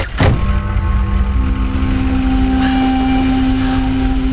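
A car engine idles steadily close by with a sharp start-up burst at the beginning, then a constant mid-pitched hum and faint tonal whine as the vehicle sits ready to drive off.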